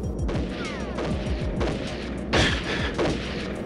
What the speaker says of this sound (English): Oh, I hear shotguns.